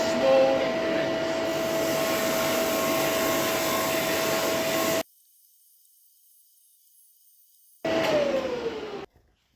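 Lumberjack DS460VS 18-inch professional drum sander running on wood, a steady loud whir with a rising motor tone, then cutting out to near silence for about three seconds before spinning up again and winding down.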